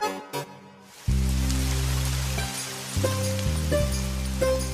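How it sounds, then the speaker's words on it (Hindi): Heavy rain pours down in a steady hiss, with a low sustained droning tone underneath. "देखो आज बारिश कितनी तेज हो रही है।"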